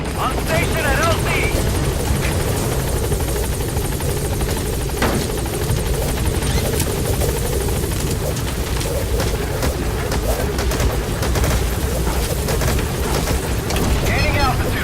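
A helicopter in Metal Gear Solid V: The Phantom Pain comes in to a landing zone, its steady loud rotor roar filling the whole stretch with no letup, and a radio-style voice speaking over it.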